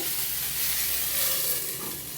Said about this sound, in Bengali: ঝিঙেটা অল্প নাড়াচাড়া করে একটু আমি ঢেকে দেব, কিছুক্ষণ হতে দেব।